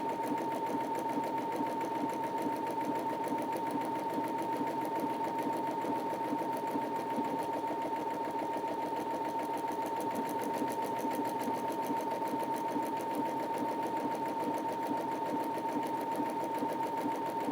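A Brother Innov-is A16 sewing machine stitches a buttonhole in fabric with a fast, steady whirring chatter and a thin motor whine, near and continuous, no voices.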